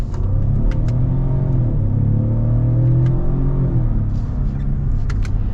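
Lincoln Navigator Black Label under acceleration from inside the cabin, a steady deep engine rumble rising in pitch, with faint clicks over it and no talk.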